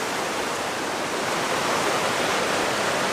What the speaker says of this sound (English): Sorry about that, it's a bit noisy because of the water.